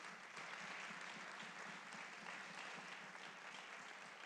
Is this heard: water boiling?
no